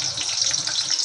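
Curry leaves crackle and sizzle as they drop into hot oil while sukha chicken is cooked, a brief, close, bright hissing spatter that lasts about a second.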